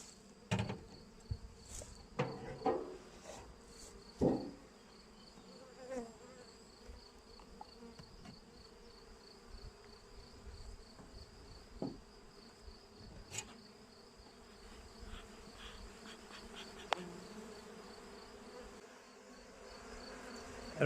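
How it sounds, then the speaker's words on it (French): Honeybees buzzing loudly with their wings, a continuous close hum with scattered sharper taps and knocks over it and no talking. "on peut entendre que les abeilles font un bruit plutôt fort avec leurs ailes"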